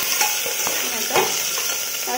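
Ginger garlic paste frying in a pan with oil: a close, continuous sizzle broken by a few short scraping stirs over about two seconds, with no voices.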